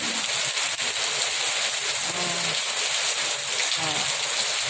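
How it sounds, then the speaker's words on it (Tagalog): Heavy afternoon rain hisses across the whole stretch, a dense even wash of falling water, with a voice speaking faintly underneath at moments. "Ulan tayo."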